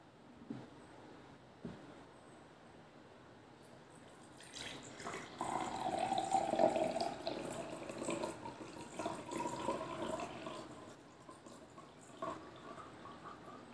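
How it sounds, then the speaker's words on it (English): Water poured from one glass into a second glass, a faint trickle at first that swells into a steady splashing pour for several seconds before thinning out, with light clinks of glass. "Now we will perform decantation, in which we will pour the water from glass 1 to glass 2."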